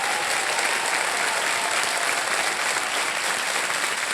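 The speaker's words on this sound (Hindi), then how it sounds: "जोरदार तालियों के साथ इनका स्वागत।" Steady, dense applause from a studio audience on a televised quiz show fills the whole stretch, loud and continuous with no voices over it.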